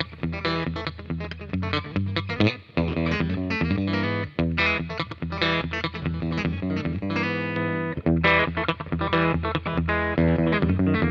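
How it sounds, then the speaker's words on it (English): A PRS DGT David Grissom electric guitar in single coil pickup mode plays a fast, dense run of distorted notes and chords, loud and continuous with no talking. "switch back and forth between the humbucking and single coil modes while I'm doing it, so you can hear the difference in sound, starting with the single coil"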